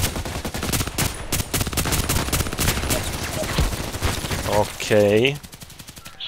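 Gunfire from an RPKT tactical machine gun in the Contract Wars video game, a dense run of sharp, loud shots that ends with a brief burst, while someone talks over it.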